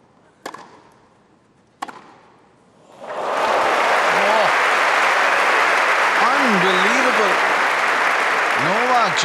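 Loud, sustained crowd applause sweeps through a Wimbledon tennis stadium after a point between Novak Djokovic and Holger Rune, following two sharp racket hits; a commentator's voice sits over the roar.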